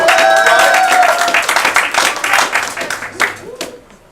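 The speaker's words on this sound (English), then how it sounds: "Let's give our judges a round of applause" An audience applauds loudly at first, the clapping thinning and fading over a few seconds as a voice speaks over it.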